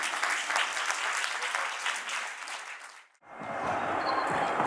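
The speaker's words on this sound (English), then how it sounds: "with the loudest round of applause" A room full of people at a company anniversary gala applauds loudly, the clapping swelling then fading briefly before a fresh burst of clapping picks up again.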